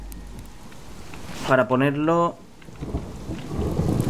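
Rain pours and thunder rolls in the survival game Subsistence, a steady rain hiss under a deep rumble, while someone speaks briefly in the middle.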